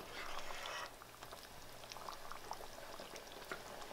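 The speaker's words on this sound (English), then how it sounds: "the sauce has been simmering for a little bit" A seafood sauce simmers in a pot with a soft, steady bubbling and a few faint stirring clicks, quiet and close, with no talking.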